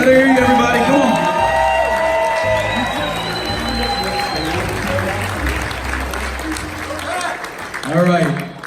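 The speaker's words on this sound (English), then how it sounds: "Big round of applause for Pat here." A crowd at an awards ceremony applauds and cheers loudly, the clapping steady throughout, with voices and whoops mixed in and a louder burst near the end.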